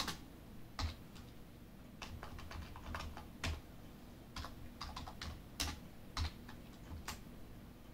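Computer keyboard typing in an Excel session, quiet and close, with irregular bursts of clicky keystrokes and short pauses between them, no voices.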